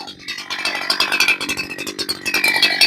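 A Holzfforma G288 90cc-class chainsaw bucking wood, running on 25:1 fuel, snarls close and loud for a few seconds with pulsing, uneven revs as the chain bites through the log, no talking over it.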